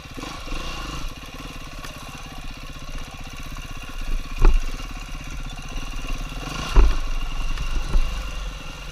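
A dirt bike engine on a single-track forest trail ride through fall leaves, running steadily at a low rumbling pace with occasional revving bumps, close and loud, no talk.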